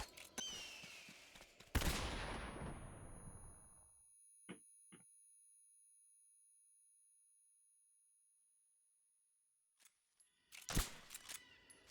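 Gunfire in Metal Gear Solid 3: a sharp shot opens a long decaying tail, two faint pops follow, then near silence before a cluster of loud bursts near the end, under a thin steady tone.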